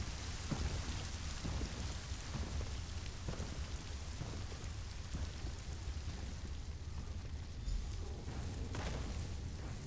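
In Elder Scrolls Online, rain summoned by a storm atronach pours steadily, with rumbling thunder and scattered sharper cracks mixed into the dense hiss of the downpour, with no talking.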